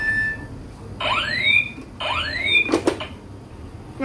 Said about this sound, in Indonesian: Jadi itu tuh alarm yang terdapat dalam mesin ini.